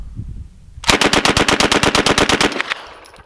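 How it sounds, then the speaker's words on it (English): Uzi fired full auto at steel targets outdoors: a single sustained burst of rapid, evenly spaced loud shots lasting under two seconds, close and dominant, followed by a fading echo. "Let's see if I can hit any of the steel targets with this Uzi."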